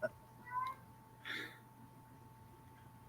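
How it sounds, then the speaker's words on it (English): A house cat that wants to go outside meows indoors, two or three short plaintive cries spaced apart over a quiet room hum. "I apologize about the meowing"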